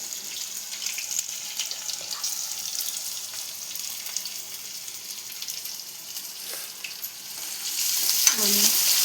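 Onions, green chilies and curry leaves frying in oil for puri curry, a soft steady sizzle with light stirring, a louder burst near the end.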